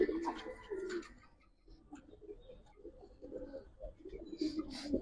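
Pigeons coo repeatedly in low, throaty rolls close by, with faint talking and rustling mixed in.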